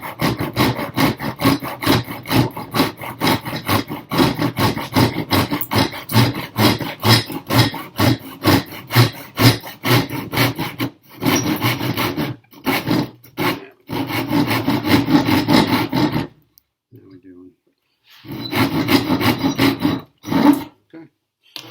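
A hand saw cuts through wood for a small phone and tablet holder in fast, loud rhythmic rasping strokes, pausing briefly, then resuming in shorter bursts near the end.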